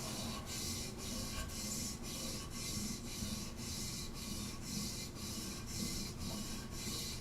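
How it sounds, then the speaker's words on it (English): A blade held in a honing guide is worked on an abrasive to re-establish its bevel, giving a steady rasping rub with an even back-and-forth rhythm of about two strokes per second, close and continuous. "Now I'm using this guide to just basically reestablish a nice smooth bevel, and then we'll work on the back."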